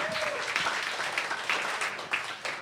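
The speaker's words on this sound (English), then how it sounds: "A round of applause for Jess Smetana." A live comedy audience in New York applauds a performer, a steady wash of clapping with faint voices underneath, moderately close.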